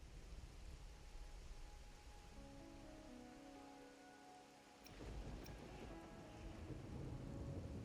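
Steady rain hisses across a surface in Wuthering Waves while a deep roll of thunder breaks midway and rumbles on, fairly close, with faint tonal game sounds underneath.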